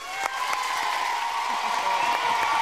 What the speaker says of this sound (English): A big round of applause for the Blues.